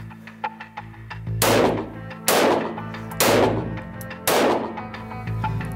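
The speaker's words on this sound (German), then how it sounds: "Dafür habe ich zuerst ausprobiert, wie es ist, mit meiner Schreckschusspistole zu schießen." Four loud blank pistol shots fired outdoors, each a sharp crack with a short decaying tail, spaced roughly a second apart, with faint small knocks before the first.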